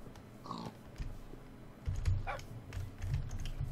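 A tamed wolf in Minecraft, the video game, makes a few faint, short dog-like barks and whines. They are spread through quiet game noise, with low thumps and clicks underneath.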